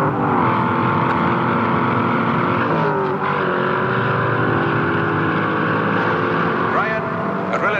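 A racing car engine drives at speed, a loud, continuous, close roar with rising and falling pitch shifts that never lets up.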